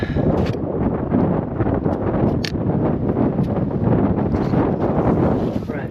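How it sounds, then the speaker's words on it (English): Strong wind gusting across a frozen lake during winter ice fishing, roaring steadily into the microphone with heavy buffeting rumble and a few sharper knocks, loud and close throughout. "Get out of the wind for a second."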